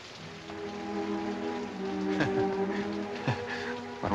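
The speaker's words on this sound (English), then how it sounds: "It's raining." Steady rain patters on a surface outdoors, a soft continuous hiss with a few sharper drops and bumps, no talking over it.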